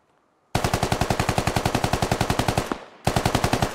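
Long automatic bursts of suppressing machine gun fire in the video game Squad, rapid evenly spaced loud shots close by, a brief pause, then another burst, with no voices.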